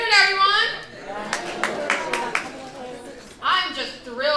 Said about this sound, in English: Give it up, y'all. And an applause.